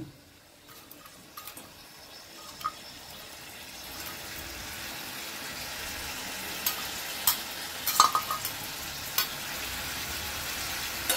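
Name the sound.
stirring cooked bottle gourd with hilsa fish head in pan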